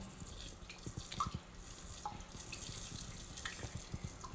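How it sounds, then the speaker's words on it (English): A handheld bidet sprayer squirts water onto an apple held over a toilet, a steady hissing spray with scattered drips and splashes running throughout, fairly close and alone without any talking. "now I'm going to take this apple and this nice little bidet system and begin to squirt"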